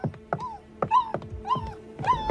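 A frightened dog whimpers and yelps in a string of short, high, rising cries at a steady pace, close and fairly loud, with no talk over it.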